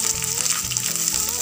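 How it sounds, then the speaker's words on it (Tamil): Sliced large onion frying in hot oil with popped mustard seeds and curry leaves for a potato kulambu, a steady close sizzle with a few light stirring knocks throughout. "நல்லா ஃப்ரை பண்ணுங்க."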